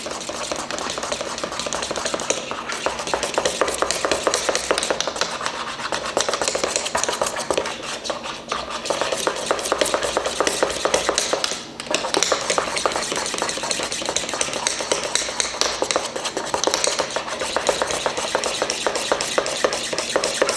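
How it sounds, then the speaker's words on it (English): A spoon stirs chocolate melting in milk in a pan, a continuous scraping and clinking against the metal with steady rhythm, close and loud, with no talking. "we can kind of give that a bit of a stir to get it melting"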